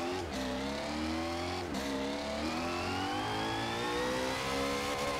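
A Koenigsegg Agera RS engine in Forza Horizon 4 revs high, climbing steadily in pitch through the gears, a brief shift dip midway, continuous and loud with no talking.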